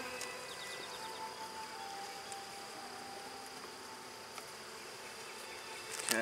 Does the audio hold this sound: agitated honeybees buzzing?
yes